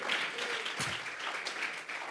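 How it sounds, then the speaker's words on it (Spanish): Applause from a church congregation offered as praise during a Spanish-language sermon, a dense, steady wash of many hands clapping at moderate volume with faint voices mixed in. "Vamos a regalarle ofrenda de palmas al Dios de la gloria."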